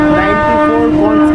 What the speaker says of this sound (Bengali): এদিকে দেখুন কি স্পিডে ট্রেন দৌড়াচ্ছে